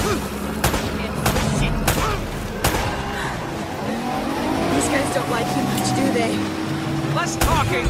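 Gunshots in the Uncharted: Drake's Fortune video game, a few sharp separate cracks over vehicle engine noise and busy game sounds, with characters talking.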